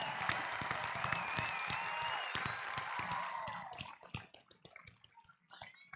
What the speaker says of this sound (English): That's a big deal. You can clap for that.